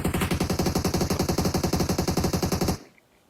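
Automatic gunfire in the PUBG Mobile video game comes as a rapid, evenly spaced burst of about two dozen loud shots, then stops abruptly with a short fading tail.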